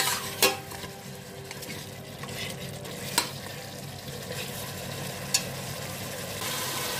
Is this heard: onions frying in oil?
yes